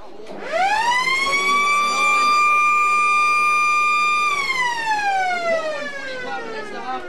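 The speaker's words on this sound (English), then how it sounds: "There's the halftime siren." At an Australian rules football match, a siren sounds for halftime, rising quickly into a long sustained tone before winding down, loud over ambient crowd noise.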